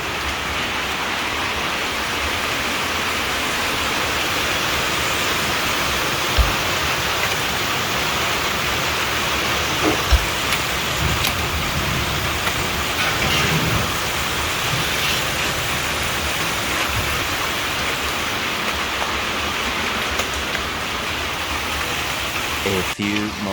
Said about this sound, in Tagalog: ang lakas ng ulan ngayon oh